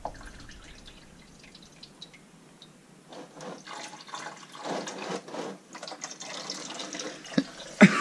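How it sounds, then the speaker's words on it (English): Coolant drains from a Nissan 240SX's KA24DE engine, first as a faint trickle and drips, then as a louder splashing, spattering stream building up over several seconds. "The wonders of draining coolant."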